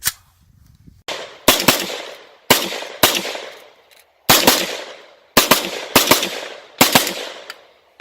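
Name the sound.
338 rifle being shot at a shooting range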